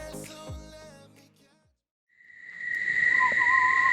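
Christmas beetles in South Africa buzz at night by a caravan campsite, a steady shrill high-pitched drone that swells in after a pause following a fading song, loud and continuous.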